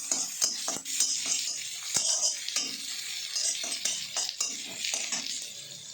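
Panch phoron spices sizzle in a pan with fish and jenam leaves while a utensil stirs and scrapes, giving a faint steady hiss broken by frequent close clicks and taps.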